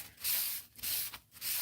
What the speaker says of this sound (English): I'm just going to spray a little water here on my rock